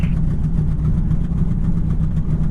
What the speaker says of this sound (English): We got the engine running here.